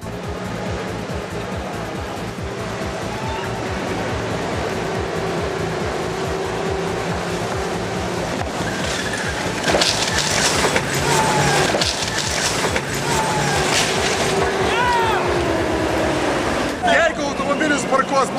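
A military tank rolls over a car parked in a bike lane, a loud, continuous heavy engine and track rumble with crunching, creaking metal as it climbs onto the car, while someone talks throughout.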